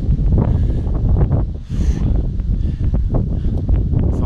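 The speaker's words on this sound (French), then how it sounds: "le vent s'est relevé à nouveau là" Strong wind blows outdoors in gusty, continuous buffeting that roars across the microphone, loud and close, with a brief lull partway through and no talk.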